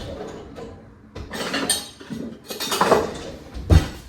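A teaspoon is fetched from a kitchen cutlery drawer while making lavender summer treats, with several light metallic clinks and clatters close by over a few seconds and no talking.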